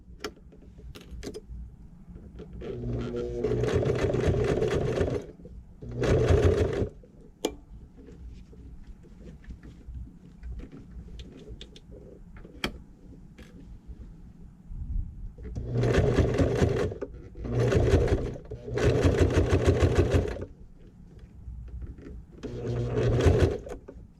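A sewing machine stitches fabric for a small shoulder bag, running in several loud, rapid bursts of steady mechanical chatter separated by pauses with quiet handling clicks.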